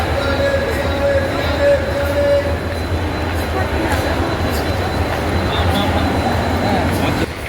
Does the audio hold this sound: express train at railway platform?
yes